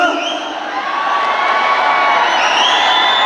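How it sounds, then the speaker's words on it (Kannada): A large crowd of fans cheers loudly for Kichcha Sudeep at his birthday celebration, a sustained dense roar of shouts and whoops, close and continuous throughout. "ಎಲ್ಲರೂ ಒಂದ್ಸಲ ಜೋರಾಗಿ ಬಾಸ್ಗೆ ಜೈಕಾರ ಹಾಕೋಣ"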